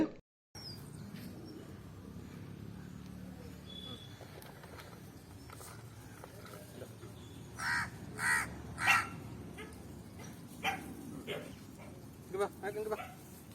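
Crows caw in a garden, several short harsh calls in a cluster midway and a few more near the end, fairly close over a quiet outdoor background.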